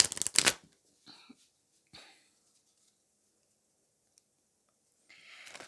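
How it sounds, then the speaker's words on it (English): Tarot cards are shuffled by hand in a couple of brisk riffling bursts at the start, followed by softer isolated flicks and long quiet gaps before a faint rustle returns. "So I'm just shuffling some cards."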